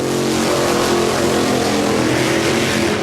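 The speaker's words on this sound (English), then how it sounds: "the motors have turned, and you can see that the Advanced Auto Parts car is coming out" Funny Car drag racing engines, including Dean Skuza's Advanced Auto Parts car, run at a loud, constant rumbling roar throughout, close and unbroken with no pauses.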